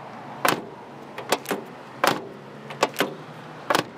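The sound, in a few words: car doors closing on a 1977 Datsun 280Z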